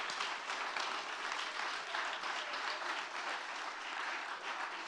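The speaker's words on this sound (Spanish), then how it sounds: "Un aplauso para ella" An audience at an International Day of Women and Girls in Science event applauds steadily after a performance, a dense, even wash of clapping that lasts the whole stretch at moderate distance.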